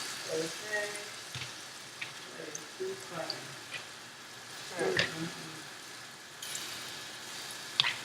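Sweet curry seasoned plantains fry softly in oil, a faint, steady crackling sizzle with scattered pops and clinks of utensils, while someone talks quietly nearby.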